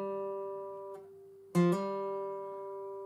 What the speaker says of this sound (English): So if you haven't played a hammer-on before, it sounds like this.